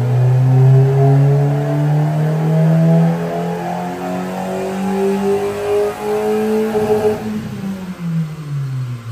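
A 1987 Suzuki FX engine with its stock air intake removed revs hard on a dyno, a loud, close, sustained mid-pitched drone that climbs, then drops and rumbles toward the end, with no voices.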